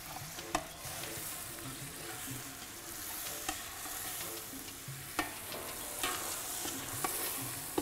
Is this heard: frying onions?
yes